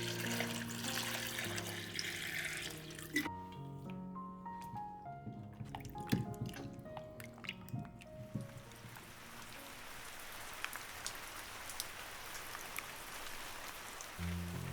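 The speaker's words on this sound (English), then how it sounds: "wash the bitter melon well with fresh water several times" Bitter melon rinsed several times under running fresh water while preparing stuffed bitter melon soup, with a steady splashing, dripping stream; clinks and knocks of handling sound over the first half before the water settles into a continuous wash.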